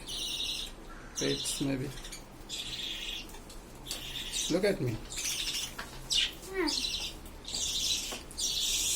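Yellow baby birds chirp in repeated bursts of high, thin tweets, close by and fairly loud, while people talk intermittently underneath.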